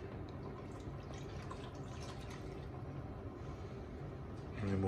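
Coconut milk being poured into a vegan curry of peppers and sweet potatoes, a faint soft gurgling, dripping flow that swells slightly louder at the end.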